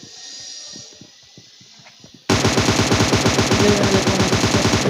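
Automatic AK rifle fire in the mobile battle royale game PUBG Mobile bursts in suddenly and loudly as a dense, rapid stream of shots, following a quieter stretch of faint clicks and ambient game noise.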